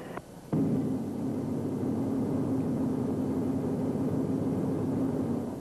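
A fighter plane's engine drones steadily in flight during a 1952 simulated attack on B-29 bombers, a loud, unbroken roar with a low hum that holds from start to finish after a brief softer opening.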